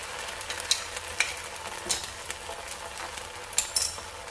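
Food sizzles steadily in a pan over lowered heat after being flipped, with a soft continuous frying hiss and several sharp metallic clinks of a utensil against the pan.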